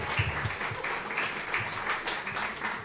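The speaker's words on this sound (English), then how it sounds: "I think it would be wrong of us to not clap it up for all of the former BVille Girls Lacrosse players." Group applause for former BVille Girls Lacrosse players, a steady wash of many hands clapping at moderate distance, with a few faint voices mixed in beneath.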